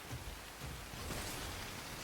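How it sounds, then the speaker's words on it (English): Heavy rain in the video game Synduality, a steady, dense hiss of downpour that stays fairly quiet and even throughout, with no voices over it. "Heavy fall like this. Find cover from the rain on the double."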